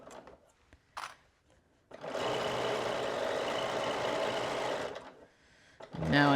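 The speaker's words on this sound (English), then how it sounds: "I'm stitching on the previous stitch line." Sewing machine stitching a dress along a previous stitch line, running in one steady, fairly loud burst of about three seconds, with soft handling noises before and after.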